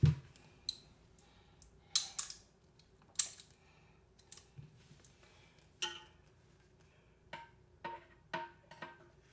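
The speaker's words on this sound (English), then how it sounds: "So I'm gonna put my ratchet on there." A ratchet tightening a toilet bolt gives sparse, sharp clicks in irregular short bursts, close and quiet against a near-silent background.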